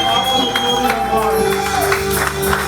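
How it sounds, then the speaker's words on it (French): Church congregation at a Wednesday service acclaiming with shouts, cheers and scattered clapping, a dense continuous crowd roar with sustained tones underneath and voices throughout. "Donne-moi un acclamation très fort pour la gloire du Seigneur"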